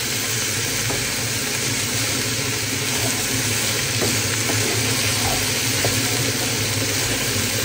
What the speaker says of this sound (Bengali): হলুদ দিয়ে একটু ভাজার পরে আমি দিয়ে দিব সামান্য জিরা গুঁড়া ধনিয়া গুঁড়া